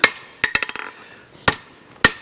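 A hammer strikes a metal horseshoe during farrier shoe modification, with four sharp, ringing metallic blows, the first and second followed by small bouncing taps, spaced irregularly and heard up close with no talking.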